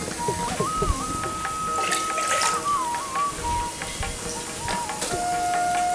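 Tamarind extract, squeezed from tamarind soaked in a tea cup, is poured into a pan for puli inji, making a steady hissing, watery pour with a faint thin whistling tone running over it.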